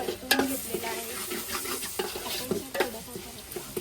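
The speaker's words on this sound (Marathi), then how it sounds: "चांगली भाजून द्यायची, ग्रेव्ही चांगली भाजायची" Gravy being stirred and roasted in a pan, a steady sizzle and fry broken by repeated scraping strokes of a spoon against the metal, close and moderately loud, with no one talking.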